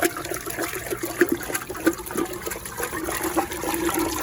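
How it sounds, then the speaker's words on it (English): Water is stirred by hand into a vortex in a jar while preparing a biodynamic BD500 mix, a close, continuous swishing and sloshing with small splashy accents and no talk. "The way we make the vortex is from the middle, from the center, just using a loose wrist,"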